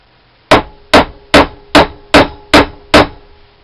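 Hammer blows on a seized ENCO lathe tool post, seven sharp metallic strikes evenly spaced about half a second apart, loud and close with short ringing decays.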